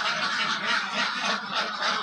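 A flock of ducks on a farm quacking together, a dense and continuous chorus of nasal calls, close and loud, with no talking.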